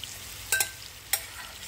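Mashed banana for a banana ube crepe frying in a pan, a steady soft sizzle broken by two brief louder bursts of stirring, close and alone.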